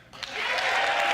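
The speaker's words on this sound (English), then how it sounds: "That was an excited clap." An audience at a State of the Union address breaks into applause, a dense burst of clapping that rises quickly and stays loud and sustained to the end.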